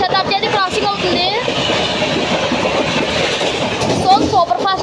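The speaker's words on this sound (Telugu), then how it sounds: "సూపర్ ఫాస్ట్గా వెళ్తుంది ఫ్లాట్ 110 క్లియరెన్స్లో." The Mannargudi–Jodhpur superfast express runs at speed through a station platform, a loud close rumble with rhythmic clickety-clack of wheels over rail joints and brief metallic squeals, sustained throughout.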